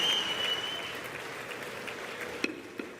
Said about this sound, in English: Hearing lots of cheering.